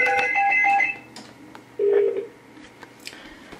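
A 2010 Range Rover's in-car phone plays a quick string of dialing tones, then a single longer tone sounds at mid-volume, with faint cabin noise between them.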